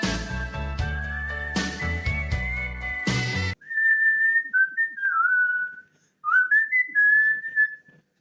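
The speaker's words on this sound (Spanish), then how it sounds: "es un solo de silbido" A melodic whistled solo, first over a full band backing, then alone with short gaps between phrases, clear and close.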